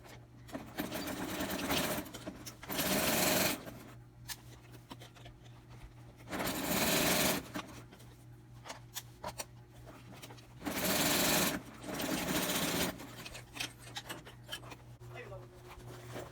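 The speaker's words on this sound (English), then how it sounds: "go back to the machine and perform a top stitch to close everything up" Sewing machine top stitching the lining of a handmade leather zippered clutch bag, in three loud sustained runs of a few seconds each separated by quieter pauses with handling noise and a low steady hum.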